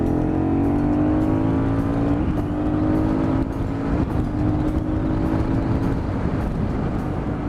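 An Aprilia Shiver 750 motorcycle restricted for the A2 licence, in Touring mode, revs under throttle blips, with a loud, close engine drone rising and falling in pitch through several steady pulls.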